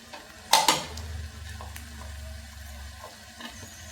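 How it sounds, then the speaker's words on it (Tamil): Curry leaves dropped into a pan of prawn pepper masala, a short sharp sizzle and clatter followed by a low, steady frying hiss with faint scraping of a spoon. "இப்போ கருவேப்பிலை போட்டுடலாம்"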